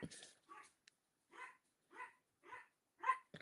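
A dog barks in a series of short, evenly spaced yaps, about six in a row, with silence between them.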